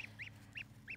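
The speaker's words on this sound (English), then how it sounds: "these are our new little baby geese." Baby geese (goslings) peep in a quick, close series of high, thin calls, about four short chirps in one second, over a low steady background hum.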